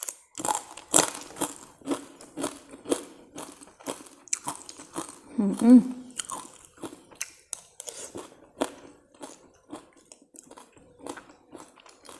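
Crispy fried fish eaten with a Thai green mango salad, giving a run of loud, close crunching bites and chewing across the whole stretch, with a woman murmuring appreciatively in between.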